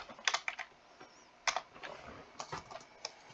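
Quick bursts of keystrokes on a computer keyboard, irregular clusters of clicks with short pauses, close and moderately quiet.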